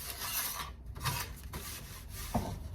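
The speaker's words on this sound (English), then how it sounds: "Just give it a quick Scotch Brite over on the back a minute." A Scotch-Brite pad rubs the back of a classic Mini's metal body panel before welding, making a close, quiet scratchy rasp in a few back-and-forth strokes with no talking.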